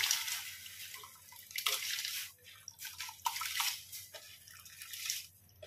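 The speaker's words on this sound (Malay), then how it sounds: "Apabila air sudah panas, kita masukkan berasnya." Rice is tipped into hot water in a cooking pot for Pakistani biryani, giving soft, intermittent splashes and trickles in several bursts over a low steady hum.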